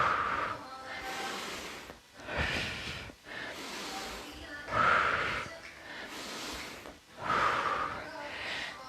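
Deep rhythmic breathing during an upper-body weight workout, repeated loud inhales and exhales in a steady cycle, with an instructor's voice talking over them.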